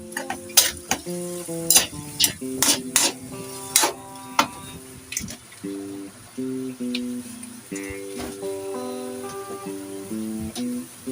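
Chicken cooking in coconut milk in a pan: repeated scraping and knocking strokes of a utensil against the pan, with a gentle sizzle underneath. The strokes are sharp and close at first, then give way to a softer, steadier bubbling.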